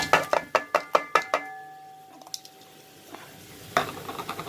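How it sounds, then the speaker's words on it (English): Vegetables tip into a pot for boiled rice, a run of about eight sharp clatters and knocks close by, then a quieter sizzle and faint stirring with one more clunk near the end. "what we're going to do is just add the vegetables"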